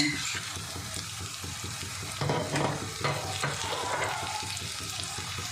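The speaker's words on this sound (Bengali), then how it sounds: "এবার যে মশলাটা করে রেখেছিলাম টক দইয়ের সঙ্গে আর গুঁড়ো মশলা দিয়ে, সেটা আমি দিয়ে দেব" A spice paste of sour yogurt and ground spices stirred into sizzling onion, garlic, ginger and tomato in a pan, with a steady close frying hiss and a rhythmic scraping of the spoon, fairly loud, with no talk.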